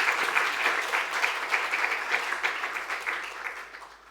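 A church congregation applauds a visiting professor after a talk, a steady, fairly close burst of many hands clapping that holds strong and then tapers off near the end.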